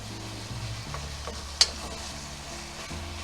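Chopped meat browning in a hot pan for stuffed bell peppers, a steady close sizzle and crackle with soft stirring scrapes and one sharp clack of a utensil midway.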